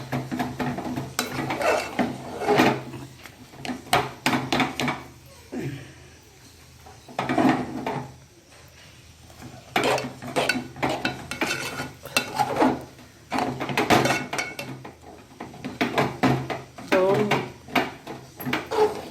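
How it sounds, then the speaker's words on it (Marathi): Flour for patvadi is stirred into boiling water in a pot, with repeated scraping and knocking of a utensil against the pot in uneven bursts, close by, while someone talks over it. "हे पीठ टाकत आणि हे पीठ थोडं दोन मिनटं असं हलवत राहायचं"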